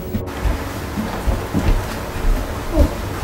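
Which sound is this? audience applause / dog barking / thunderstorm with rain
thunderstorm with rain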